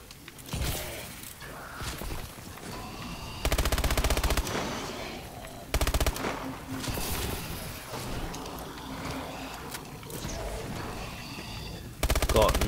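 Automatic rifle fire in the Exo Zombies video game, heavy sustained bursts rattling over a steady game soundscape, with several louder close volleys cutting in and out across the stretch.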